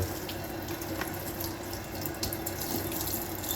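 A kitchen tap runs steadily while raw chicken pieces are rinsed under it, a close, even splashing stream with small irregular spatters as the water hits the meat.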